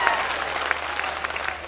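Crowd clapping at a mushaira poetry gathering in Sakinaka, Mumbai, a brief steady burst of many hands applauding together with a few crisper claps standing out.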